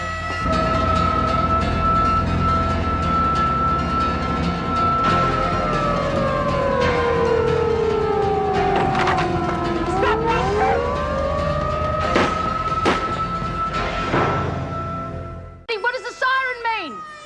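A loud, sustained prison alarm siren wails continuously, its pitch sweeping down and back up, over a steady rumble before cutting off abruptly near the end.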